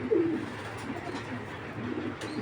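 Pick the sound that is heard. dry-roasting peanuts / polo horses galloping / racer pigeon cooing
racer pigeon cooing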